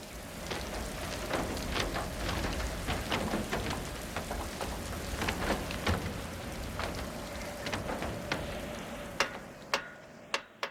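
Steady rain falls outdoors at a remote snowy-hill site in August, a dense continuous patter with scattered sharper drops and a few distinct taps near the end, no voices.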